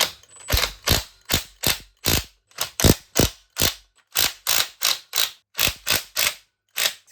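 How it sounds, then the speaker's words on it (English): Impact wrench hammering loose the head bolts on a Raptor engine, a long run of rapid, loud, close rattling bursts separated by short pauses. "I'll use an impact for the start."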